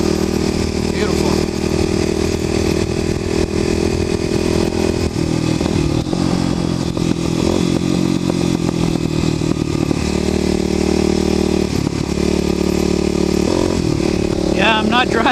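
A Kawasaki KLX250sf motorcycle engine drones steadily while riding at moderate speed through farmland, loud and close with wind rush and slight rev changes throughout.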